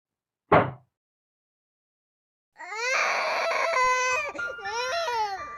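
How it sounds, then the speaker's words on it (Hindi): A baby cries in a horror setting, preceded by a sharp knock or thud, then a sustained wailing, sobbing cry with rising and falling pitch, loud and close, after a stretch of silence. "जैसे ही जेम्स के रोने की आवाज़ आई"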